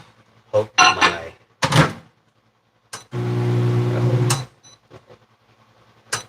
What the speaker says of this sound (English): The microwave is loud.